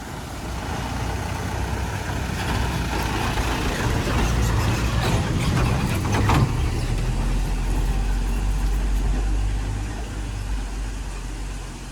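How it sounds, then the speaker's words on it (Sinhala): A large Imperial bus climbing a remote mountain road near a misty tea estate at Balangoda, about 5000 ft in Sri Lanka, its engine rumbling steadily and growing fuller as it draws closer, with no talk. "ඉතින් අම්පේරියල් බස් එක එනවා."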